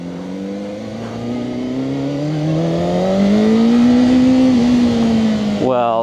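A Voge RR500S inline-four motorcycle engine revving, a loud close whine rising and falling in pitch through the gears, ending with a quick sharp blip.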